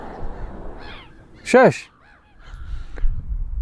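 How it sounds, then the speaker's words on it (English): Crows caw loudly from seaside cliff tops, one harsh call standing out close by while other birds call more faintly around it, with wind in the background and a person speaking briefly. "There's a lot of birds."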